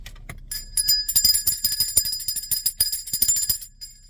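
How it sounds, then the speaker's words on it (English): A small bell rings repeatedly in quick, jangling strokes, bright and close, ringing on for several seconds before fading. "while I ring this bell of enlightenment"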